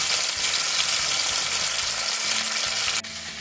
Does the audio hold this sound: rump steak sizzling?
yes